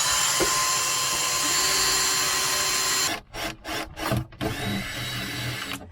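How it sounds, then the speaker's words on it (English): A steady, loud grinding whir of a drill runs for about three seconds, then breaks into several short stuttering bursts as it cuts holes in the hull of a Beneteau Oceanis 393 sailboat. "Let's drill some holes in the boat."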